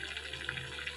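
Water from a tap runs steadily into a cooking pot in a South Indian home kitchen, a continuous close hiss and splash with no talking.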